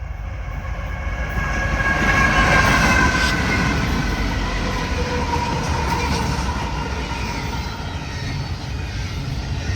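A long intermodal container freight train, about 15,000 feet with 402 containers, rumbles past continuously on an Oregon main line, a loud, steady roar of rolling wagons with metallic squeal, no pause throughout.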